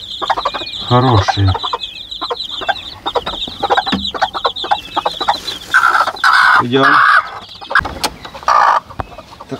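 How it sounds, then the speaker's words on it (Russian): Peafowl chicks give high, thin whistling peeps and chicken-like chirps in quick repeated bursts, loud and close, while a person speaks briefly nearby. "Так свистят, интересно. Больше на курицу похоже, чем на павлина."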